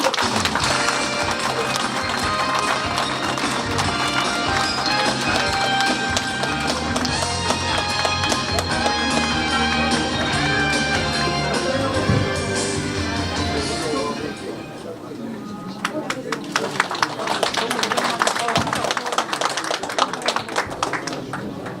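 Applause from the crowd at a political campaign office opening ceremony greets a guest speaker, a loud sustained clatter of many hands that thins and dips near the end before a burst of sharper clapping resumes.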